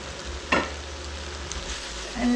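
Vegetable hakka chow mein noodles with tofu and green onion get a quick stir in a hot pan, a soft sizzle under one sharp scrape of the utensil and a faint clatter near the end.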